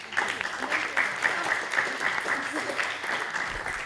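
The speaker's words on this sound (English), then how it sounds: "let's have another round of applause" Audience applause at a university gaming panel event, a moderate round of clapping from a modest crowd in a room, fairly steady with a distinct repeating clap rhythm, a voice speaking over it.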